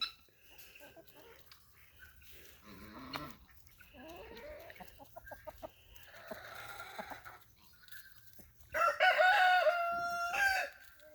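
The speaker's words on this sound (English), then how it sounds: "And this is our other rooster over here" A Murray McMurray mystery rooster with green legs crows loudly near the end, a bright drawn-out call, after quieter scattered clucking and farmyard sounds.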